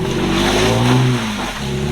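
A 2WD vehicle driving off road revs its engine loudly and continuously, the pitch rising and dipping as it strains forward, with no voices heard.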